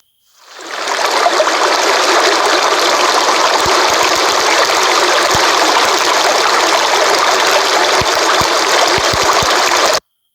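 Continuous rushing flow of water, loud and steady, fading in at the start and cutting off abruptly at the end.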